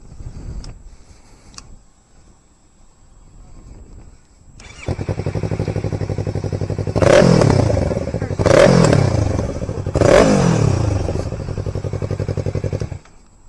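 Yamaha YZF-R3 / MT-03 quarter-litre motorcycle engine while riding, a loud close drone that kicks in after a quiet start and surges three times with revving before settling to a steady hum.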